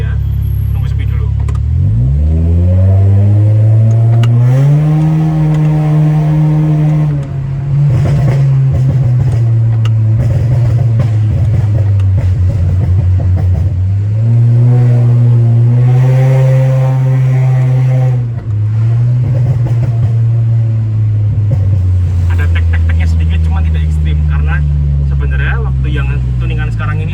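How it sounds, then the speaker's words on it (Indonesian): A modified Honda Brio with an aftermarket exhaust, heard from inside the car as the engine revs repeatedly, rising and falling in loud drawn-out pulls with steady idle rumble between them. "Jadi ini adalah suara knalpotnya Starsha POV dari dalam mobil."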